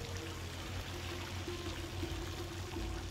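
Melted ice water flows in Minecraft, a steady, soft pouring and trickling that runs continuously and faintly, with no speech.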